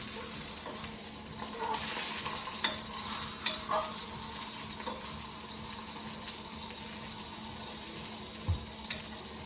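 Breadcrumbed mushrooms frying in a pan, giving a continuous low sizzle with occasional scraping and light knocks as they are turned, fairly quiet throughout and without speech.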